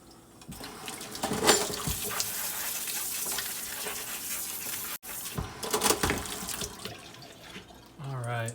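Running tap water gushes and splashes while a rock tumbler barrel is rinsed of grit water, a steady close wash that briefly cuts out and then resumes with shifting splashes.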